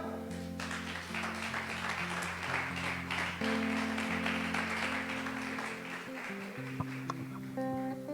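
A church congregation claps steadily through a dense, continuous round of applause, with organ or keyboard tones sustained underneath, moderately loud and filling the room.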